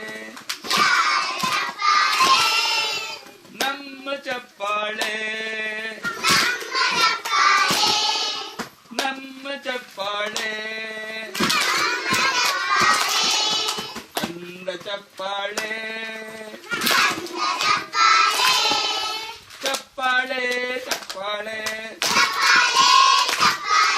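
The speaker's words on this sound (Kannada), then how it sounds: "ಶಬ್ದದ ಚಪ್ಪಾಳೆ" Rhythmic hand claps from a group at a school event, steady sharp slaps running through the whole stretch beneath prominent children's voices speaking or chanting.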